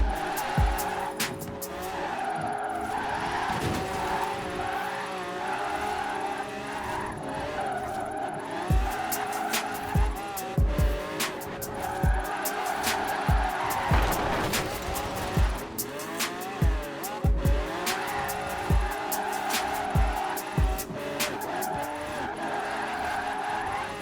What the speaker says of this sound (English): the e-brake will send this car around corners like Kanemitsu Takahashi in his prime.